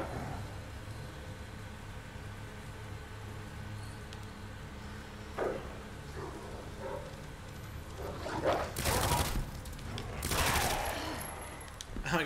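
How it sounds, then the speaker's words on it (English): Gunfire in Resident Evil 2 Remake: a steady game ambience, then a couple of sharp shots near the end, loud and close, with rumbling noise in between. "You guys gotta hold still. So I can shoot ya."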